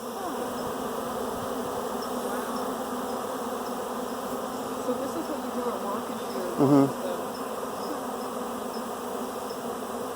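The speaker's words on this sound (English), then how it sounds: "when a princess bee or a queen bee is swarming and all these other bees are interested in her because of all her pheromones" A swarm of honeybees clustered around a queen or princess bee at a ranch, a dense, steady buzzing drone heard close up, with a person speaking briefly over it.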